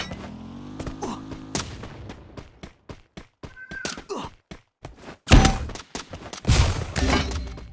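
In a battle royale video game, sharp sniper rifle shots crack out at irregular intervals among thuds and impacts. A loud burst comes near the end, mixed with game effects and a few vocal sounds.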